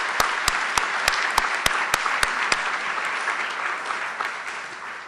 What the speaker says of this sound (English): Let's give these faculty a round of applause.